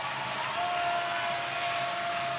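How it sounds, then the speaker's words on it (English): A sold-out volleyball crowd at a college match cheers on its feet, a dense sustained roar of many voices with a steady high tone held through it. "Sold out crowd on its feet."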